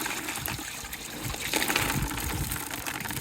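Water splashes and trickles through aquarium stones as they get rinsed for a new fish tank, a close, continuous gushing with small rattling clinks.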